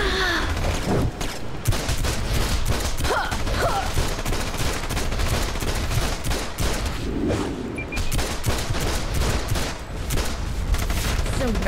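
Rapid gunfire rattles through a DC Universe Online game battle: dense, repeated bursts and crackling shots layered with occasional booms, loud and nearly continuous the whole way through.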